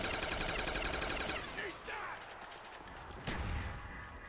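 Gunfire in a zombies shooter on the Ascension map rattles in rapid bursts, a fast repeating volley that breaks off, then a single sharp blast later, with some chatter under it.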